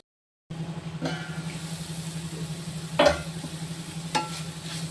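Papaya flowers and onions sautéing in a pan, a soft continuous sizzle broken by a few brief scraping stir strokes, beginning after a short silence.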